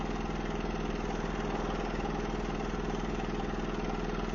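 Car waste oil furnace burning soot out of its oil-saturated box, a steady, even roaring rumble with a fast pulsing flutter, continuous and unchanging throughout.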